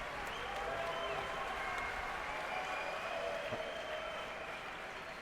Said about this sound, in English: That's a big round of applause from the fans in here